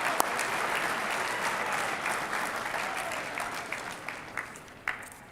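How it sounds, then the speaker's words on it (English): Audience applause fills a college football awards ceremony, a dense steady clapping from a large crowd that slowly thins toward the end, with a few sharper individual claps standing out. "It says here you can clap now"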